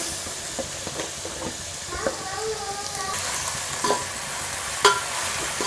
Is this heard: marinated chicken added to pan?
yes